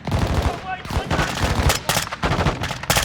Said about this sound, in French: Envoie des tirs de suppression.